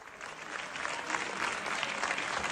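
Steady, dense applause fills the French National Assembly chamber as a bill is voted, a broad wash of clapping from many deputies that holds at an even level throughout.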